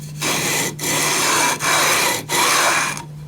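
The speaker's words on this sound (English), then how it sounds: "We just keep sanding with the beam until all the blue bits are gone" Rasping strokes of a sanding beam filing the frets of a Harmony Stratotone-style guitar, four long back-and-forth passes separated by brief pauses, close and fairly loud with no talking.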